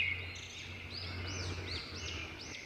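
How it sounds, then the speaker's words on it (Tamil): A songbird sings a quick series of thin, high, rising and falling chirps over a quiet steady background hum, faint and fairly distant, with no talk. "பொன் பறவை வானத்துல பறந்துட்டு ஒரு அழகான பாடலை பாடுச்சு."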